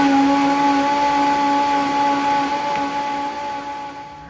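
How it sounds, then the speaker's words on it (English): A blender whirs steadily through a batch of carrot and ginger soup, its motor a loud, sustained drone with a constant pitch that eases off slightly toward the end. "And I am ready to blend."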